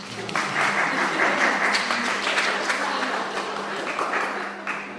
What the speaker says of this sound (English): a little round of applause for Annalise, please